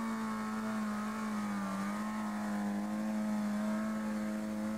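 A trials car at a sporting trial accelerating hard for traction, its engine holding a steady loud drone with a strong low tone, close and continuous, with no talking.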